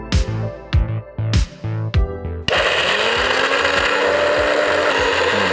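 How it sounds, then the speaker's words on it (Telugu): A kitchen mixer grinder works on soaked urad dal and rice for ponganalu batter: a few sharp knocks come first, then the motor kicks in with a loud, steady whirring grind that carries on to the end. "కొట్టేయండి, మిక్సీ కొట్టేయండి."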